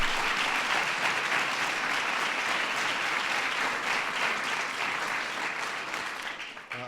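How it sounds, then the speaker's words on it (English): A large audience at a national arts award ceremony bursts into dense, sustained clapping that fades slightly toward the end. "Please give him a big round of applause."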